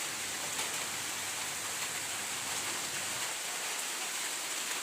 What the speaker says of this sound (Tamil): நல்லா மழை பெய்யுது, காற்று பயங்கரமாக அடிக்குது.